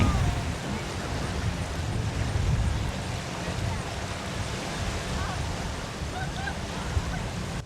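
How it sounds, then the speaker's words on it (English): Motorboat fitted with trim tabs running over waves and wakes, giving a continuous broadband rush of water and hull noise with a low engine rumble, steady and close throughout. "Notice how smooth the boat runs through waves and wakes."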